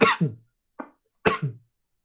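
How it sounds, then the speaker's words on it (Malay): A teacher coughs during a history lesson: two quick coughs close together, a short pause, then another pair of coughs, all clear and near with no talk over them. "Batuk pula."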